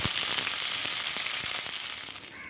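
Finely chopped onions frying in hot oil for a soya chunks masala fry, a loud, steady crackling sizzle with scattered pops, slowly easing off toward the end, with no talking.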